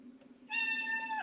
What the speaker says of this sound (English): My kitty's yelling. Can you hear her?